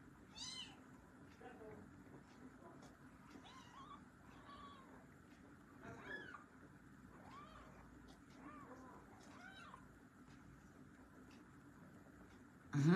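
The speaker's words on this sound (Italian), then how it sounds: "Sta parlando con i gatti, Eric." Newborn kittens mewing repeatedly, thin high cries coming in short bursts at close range, with quiet background noise and a louder thump at the very end.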